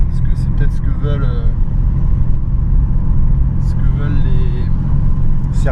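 A Volkswagen Golf 2 GTI 16V driving on the road, its engine a steady low rumble close by with light acceleration, while a person talks over it throughout.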